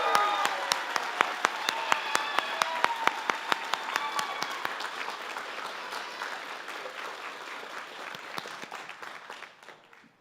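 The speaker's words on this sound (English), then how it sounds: "Please join me in a round of applause for these outstanding scholars." Sustained applause from an audience at the Oregon Tech 2024 commencement ceremony, dense steady clapping with a few sharper nearby claps, holding loud for several seconds and then gradually thinning and fading away.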